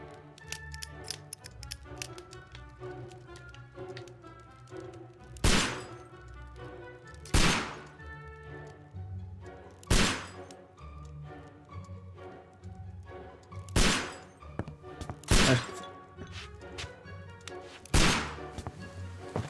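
Revolver gunshots in the video game Sherlock Holmes: Crimes & Punishments, sharp single reports spaced every two to three seconds over steady game music.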